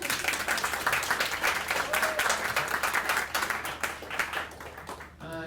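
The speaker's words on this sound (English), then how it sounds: "You can clap now" Audience clapping at the opening of Bookfest 2016 in East Hampton, a steady dense patter of many hands indoors with a voice mixed in, tapering off near the end.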